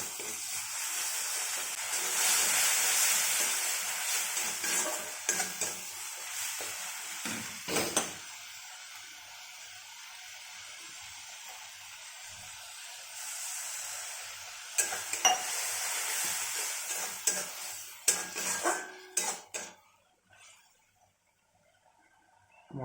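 Spice paste (masala) with a little water fries and is stirred in a pan for a dahi bhindi (okra in yogurt) dish. A loud hissing sizzle runs for several seconds, drops away, surges again with scraping, then stops near the end.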